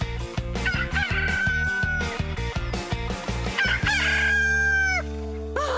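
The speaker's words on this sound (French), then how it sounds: "ce coq vient de chanter pour la toute dernière fois" A cartoon rooster crows several times in a row, loud, bright calls over a busy animated music bed, with one long final crow near the end.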